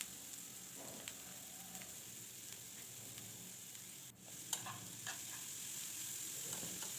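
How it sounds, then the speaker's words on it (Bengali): Carrots and beans stir-frying in oil in a pan, a soft, even sizzle with a few faint scrapes and one brief louder clatter midway, quiet and close. "এবার তেলের ভেতরে দিয়ে দেবো প্রথমে গাজর, তারপর দেবো বিনস, দিয়ে হালকা নাড়াচাড়া করে নেব।"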